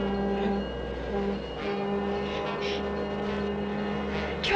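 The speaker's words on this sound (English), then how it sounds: "there's a train coming" A train rumbles steadily from nearby with a low, sustained drone and faint tonal hum, a continuous mechanical roar with no talking over it.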